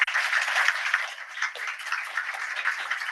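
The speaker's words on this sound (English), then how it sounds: "We can give our board of directors a round of applause" Audience applause for a board of directors at a gifted-and-talented education advisory meeting, a brief steady round of clapping from a modest crowd in a room, fairly even throughout.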